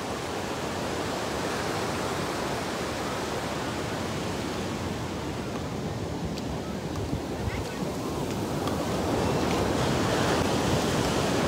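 Big ocean waves on a California beach roll and crash in a steady, loud wash of surf that fills the scene, with wind buffeting the microphone and no talk.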